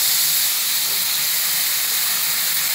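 Brinjal pieces dropped into hot oil for vankaya fry fill the pan with a steady, bright, hissing sizzle that stays loud and even throughout, with no voices.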